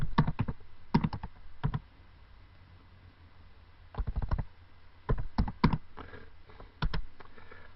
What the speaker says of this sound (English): if I was going to write some words, which is basically hello world